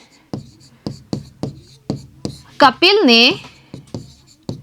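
Chalk taps and scrapes on a classroom board during a maths lesson, a series of sharp, evenly spaced strokes close by, with a teacher's voice speaking briefly partway through.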